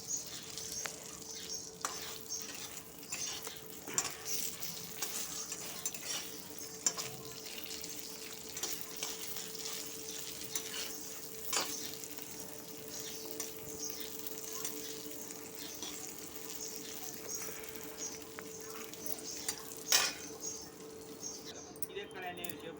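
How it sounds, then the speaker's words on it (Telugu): Brinjal (eggplant) pieces, turned and softened after cooking under a lid, fry in a pan with a faint, continuous sizzle and occasional small clicks and pops over a long stretch. "ఇగో ఇలా వేగుతుందన్నమాట."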